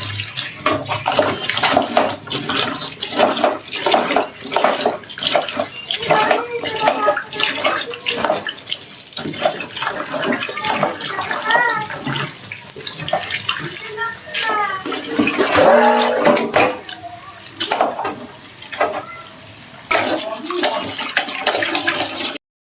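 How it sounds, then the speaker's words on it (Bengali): Chopped vegetables, including ginger, garlic, coriander leaves and tomatoes, are washed under running water, a steady loud splashing and gushing that lasts throughout, with voices talking over it. "সমস্ত সবজিগুলো ভালো করে কেটে নিয়েছি কেটে নিয়ে এখানে কিন্তু ভালো করে ধুয়ে নিচ্ছি"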